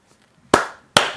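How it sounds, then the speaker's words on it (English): Two sharp, loud claps ring out close by, spaced about half a second apart, with nothing else around them. "We need to give a round of applause."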